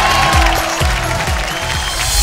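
A studio audience at a Kannada comedy show claps loudly together, a dense burst of applause lasting a couple of seconds with a voice audible over it.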